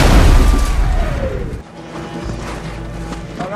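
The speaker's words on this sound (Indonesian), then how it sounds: "serangan bom barusan tanpa sengaja menghancurkan kediaman dari Emma dan membuatnya tewas di tempat." A bomb blast in a war film battle against Nazi forces with a tank, opening with a loud, close, booming explosion that rumbles and decays, followed by a lower lingering roar.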